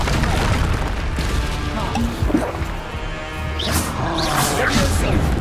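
Descendo and Flipendo spell impacts in the Hogwarts Legacy video game: loud booming crashes with splashy, crackling debris, one hit after another in a dense, busy battle mix.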